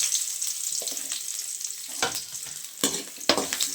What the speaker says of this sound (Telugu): ఇప్పుడు కట్ చేసి పెట్టుకున్న ఎర్రగడ్డలు కూడా వేయించుకోవాలన్నమాట